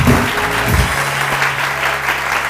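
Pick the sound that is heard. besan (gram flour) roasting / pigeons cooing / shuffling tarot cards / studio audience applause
studio audience applause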